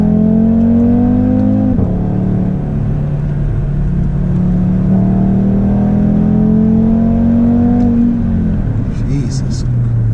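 An Audi RS3's five-cylinder engine pulls hard through rising revs from inside the car, with a gearshift drop near two seconds and another near eight, loud and continuous throughout.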